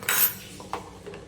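A spoon scrapes and clinks against a metal pot while thick dudhpak milk pudding is stirred, with a few short bright scrapes and a louder opening stroke before the sound fades and recurs briefly.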